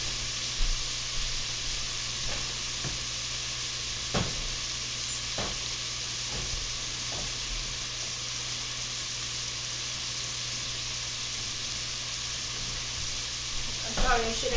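Onions brown on high heat in a pot, giving a steady close hiss of sizzling with a few faint knocks and a louder stir near the end.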